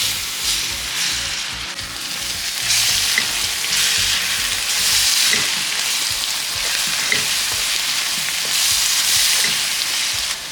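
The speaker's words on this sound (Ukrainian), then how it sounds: "треба підсмажити цибулю." Onions sizzle and crackle steadily in hot oil, a continuous bright frying hiss with small pops, close up and without talk.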